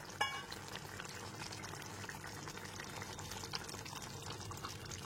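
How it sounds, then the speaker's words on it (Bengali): Curry broth with potato and elephant foot yam bubbles in a pot, a faint, steady simmering burble with soft liquid pops throughout and no voices. "ঝোলটা এবার ফুটতে শুরু করে দিয়েছে।"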